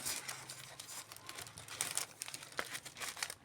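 Close, continuous crinkling and rustling of cellophane wrapping paper being handled while assembling a doll bouquet, with a few sharper crackles.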